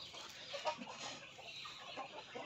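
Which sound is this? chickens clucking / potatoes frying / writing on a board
chickens clucking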